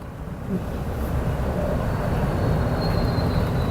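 Steady low rumble of an elevated skytrain rolling into a Bangkok station, building slightly in loudness, with a faint high whine above the broadband noise.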